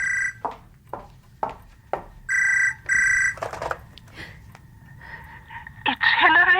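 A telephone rings in a horror audio drama: two sustained electronic rings, clear and close, among short breathy sounds and a quiet backdrop, followed by a voice.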